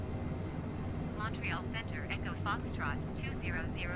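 Eurofighter Typhoon jet fighter flying in a video game, a steady loud engine roar throughout with a person talking over it.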